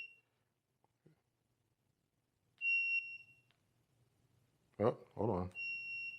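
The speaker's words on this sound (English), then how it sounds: "it's beeping because if you leave it on, if you hear that weird noise, that's because I have the right signal on" An Engwe Y600 electric scooter's right turn signal sounds as sustained high-pitched electronic beeps in two clear stretches with quiet gaps between. Someone speaks briefly near the end.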